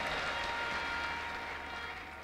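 A church congregation applauding at a prophet's service, a steady wash of clapping from many hands that thins slightly toward the end, heard at moderate distance.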